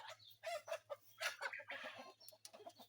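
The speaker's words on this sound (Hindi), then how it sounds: "टर्की" Turkeys and other farm birds calling in a yard, with a steady low hum beneath and a busy run of repeated gobbling and clucking calls. Several birds sound close and overlap each other.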